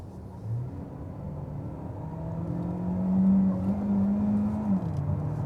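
DS9 hybrid luxury sedan in sports mode accelerating hard from 50 km/h, combustion engine and electric drive together; a steady rising engine drone climbs in pitch, dips briefly at a hesitant gear shift, then pulls on, heard from inside the cabin.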